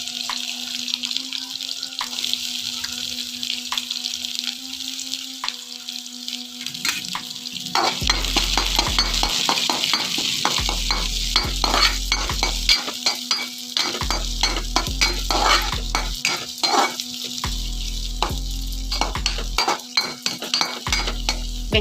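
Green chilli and onion hit hot oil already popping with mustard seeds and urad dal for a drumstick-leaf egg poriyal, giving loud steady sizzling with spatula scrapes and clinks against the pan, no voices.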